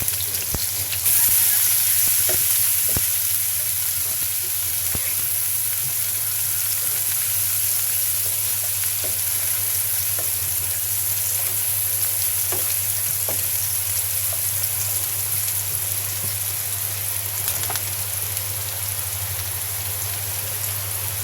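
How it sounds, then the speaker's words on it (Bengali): Onions fry in the same pan just used for frying poa fish, giving a steady, close, rain-like sizzle throughout with occasional small pops and a faint low hum beneath. "এখন আমি পেঁয়াজ দিয়ে দিচ্ছি ওই মাছ ভাজির পরেই আমি ভেজে নিচ্ছি"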